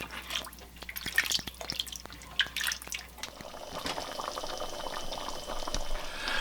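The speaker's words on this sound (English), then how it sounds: "Well, now that this has been simmering here for 7 to 8 minutes, the rice is only about halfway done." Jambalaya rice simmers in a pot over medium heat, a close, busy bubbling with popping drips and a steady wet hiss that builds slightly toward the end.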